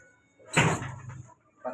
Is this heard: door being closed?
yes